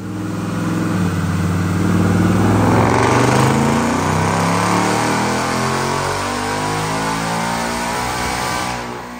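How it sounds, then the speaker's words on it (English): A 2024 Ford Mustang GT automatic with a Whipple Stage 1 supercharger on 93 octane, loud and close on a DynoJet dyno in sixth gear, its engine climbing steadily in pitch through a long sustained pull before easing off near the end. "Check out this dyno pull."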